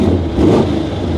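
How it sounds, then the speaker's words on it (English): A fire-damaged 1000hp race car engine with nitrous revving up, a loud, close, low rumbling burst that swells briefly in the middle. "I love revving it up."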